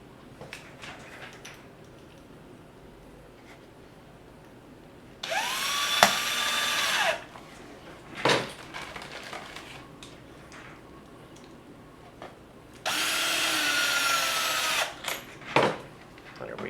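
A power drill drives screws into a Scout D rocket airframe in two sustained bursts of several seconds each, with short clicks and handling taps in between and a quiet room background.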